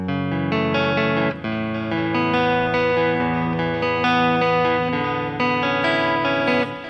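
A clean electric guitar plays the opening of a song, ringing arpeggiated notes with a touch of chorus-like shimmer and reverb, sustained and close, with no talking over it.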